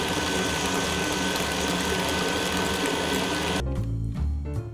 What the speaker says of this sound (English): we're gonna go ahead and put the butter and the shortening both in the mixer